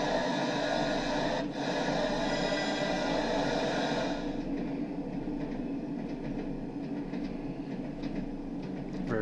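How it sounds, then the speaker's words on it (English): A DMU train on the Tees Valley Line in Train Sim World 3 produces a loud, sustained air brake hiss over a steady rumble of rail noise, with the hiss cutting out about midway while the running noise continues. "Very loud air brake."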